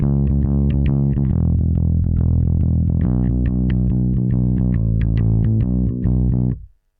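Effected, distorted bass guitar plays a shuffle groove with the first two notes of each triplet tied, giving a long-short lilting rhythm, loud and up front, alone, stopping abruptly near the end.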